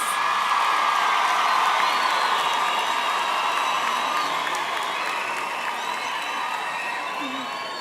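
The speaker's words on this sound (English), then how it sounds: "Can you give them a round of applause?" Graduation ceremony audience at the University of the Free State applauding and cheering, a dense, sustained wash of clapping with scattered whoops from a large crowd in a hall, tapering slightly toward the end.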